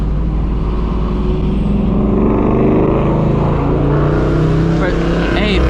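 Car passing on a highway, a steady broadband road and engine roar with a brief rising whoosh near the end, loud and close.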